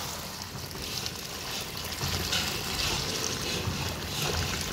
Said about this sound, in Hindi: अब हम इसमें 15 किलो दूध डालेंगे